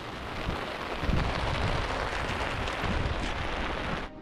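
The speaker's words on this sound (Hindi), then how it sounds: "फुल पावर बारिश" Heavy rain pours at a mountain campsite on a Himalayan trek near Manali, a dense, steady roar of downpour with louder gusts midway, then cutting off at the end.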